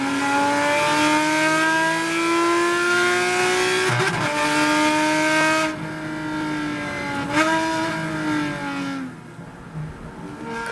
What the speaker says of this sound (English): you'll see one of the GT2 RSs that him and Boris were driving kind of goes off track